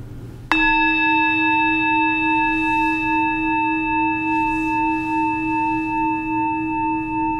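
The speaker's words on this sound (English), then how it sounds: "We'll begin with the first bell," A single meditation bell is struck once and rings out with a clear, sustained shimmering tone that decays slowly over several seconds, alone in a quiet room.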